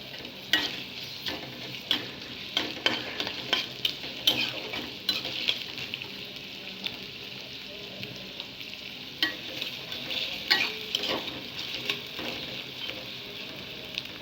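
Onion, finely chopped garlic and spices frying in a pan for a chicken dish, a soft steady sizzle under repeated scraping stirs and utensil clinks, close and fairly quiet with no talking.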